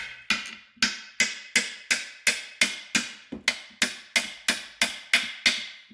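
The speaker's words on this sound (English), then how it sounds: "So, smash the socket on." Steady series of sharp metallic hammer strikes driving a socket onto a rusty bolt on a 2006 Subaru Forester, about two per second, each ringing briefly before the next blow; close and loud with no talking.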